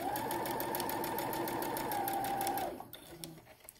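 Electric sewing machine stitching a fabric bell cover for a woodwind or brass instrument, running in a steady close whir for a few seconds before stopping, followed by faint handling noise.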